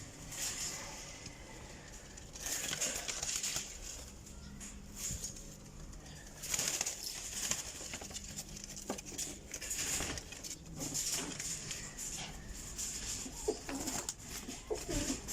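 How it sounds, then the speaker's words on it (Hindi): Pigeons coo softly and repeatedly over a low background hum, with occasional faint clatter nearby. "ए कबूतर है, ठीक है।"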